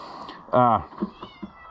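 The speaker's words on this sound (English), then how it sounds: "I got a real annoying cat that's moved into my shop" A cat inside a beekeeper's workshop lets out one loud, close, drawn-out meow, followed by a few quieter short mews and faint rustling.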